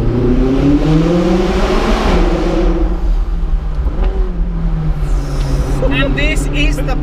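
A McLaren 675LT sports car accelerates hard with rising engine notes through gear changes, loud and close from inside, while people talk over it.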